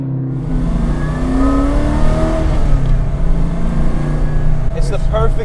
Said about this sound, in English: perfect balance of the supercharger whine and the exhaust